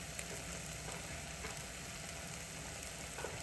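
Spicy Italian sausage frying in a soup pot, a faint, even sizzle with light stirring, heard with no one speaking.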